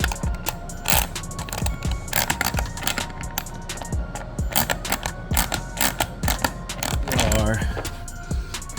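A ratchet turns a snug 14 mm bolt during an NA Toyota MR2 Spyder build, giving bursts of rapid clicking strokes with short pauses, close and fairly loud, while a person talks in between.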